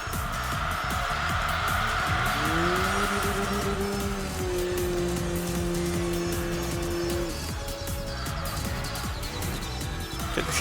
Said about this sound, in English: It is still weird to me just hearing the constant rev, and that's it.